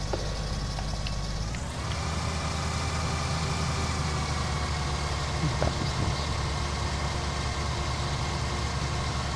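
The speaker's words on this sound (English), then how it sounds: "It's silly really leaving the engine running when it's your own combine that's using my fuel." A combine harvester's engine idles in Farming Simulator 19, a loud, steady low diesel drone that shifts slightly in tone early on, then holds an even rumble throughout.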